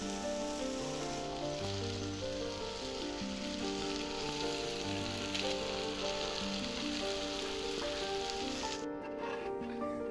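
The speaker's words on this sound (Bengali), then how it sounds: "ঠিক মাছটা আপনারা এরকম ভাজা ভাজা টাইপের করে নামাবেন।" Taki fish frying in a pan with oil, giving a continuous, even sizzle that holds steady and close throughout, with no voices.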